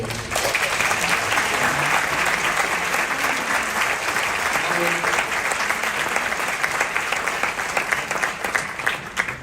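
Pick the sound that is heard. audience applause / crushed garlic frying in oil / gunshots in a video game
audience applause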